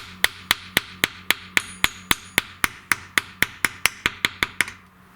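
Quick, even blows from a small brass hammer drive a snug part onto a John Deere lawn tractor transmission, about seventeen crisp close strikes that speed up slightly toward the end before stopping.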